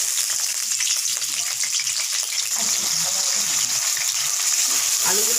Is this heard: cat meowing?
no